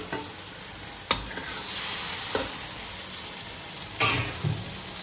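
Mackerel pieces dropped into a wok of sautéed spices for a chili coconut curry, with a few sharp splashes and clatters and then a loud, steady frying sizzle close up, stirred now and then, without talk.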